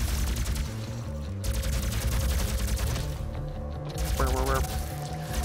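Plasma rifle in the video game Doom firing in rapid repeated bursts amid game sounds and a pulsing soundtrack, loud and continuous, with a voice speaking briefly.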